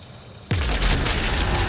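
Sustained gunfire from the video game Mass Effect 3 begins abruptly after a short quiet stretch: a dense, loud burst of rapid shots that continues to the end.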